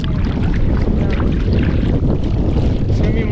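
Steady, loud wind buffets the microphone throughout while an inflatable kayak crosses a lake, with a broad low roar and faint water sounds beneath it.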